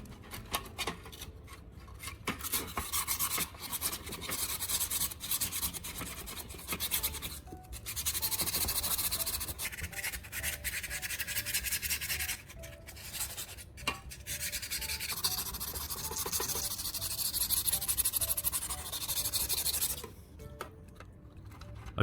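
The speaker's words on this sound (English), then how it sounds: "I focus on the flat sides and the cutting edge, removing loose rust and old buildup." Pruning shear blades being scrubbed by hand to remove loose rust and old buildup: steady, close abrasive rubbing strokes that continue for the whole stretch with brief pauses.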